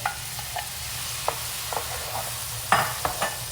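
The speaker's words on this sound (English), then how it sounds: "time for this delicious shrimp to be added" Shrimp going into a hot pan with onion and red pepper, giving a steady close sizzle marked by a few sharp clinks and scrapes of the utensil, with no talking.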